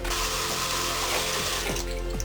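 Running tap water splashes steadily over a lightsaber replica part being rinsed after weathering with aluminum black, a loud continuous rush with a faint clink near the end.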